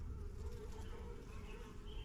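Bees buzzing as they fly in and out of a hive at a nature center in Millersburg, Pennsylvania, a soft continuous drone of many wings close by, faint and steady with no voices.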